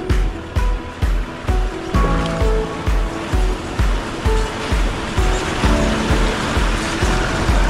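A car towing a caravan splashes through a shallow river crossing on the Bloomfield Track, with loud rhythmic surges of churning water and engine noise pulsing about twice a second throughout.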